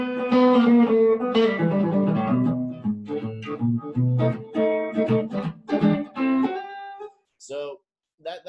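An electric guitar played through an amplifier runs a short blues phrase of ringing notes and chords, some bent or slid, before trailing off into a few quieter, sparse notes.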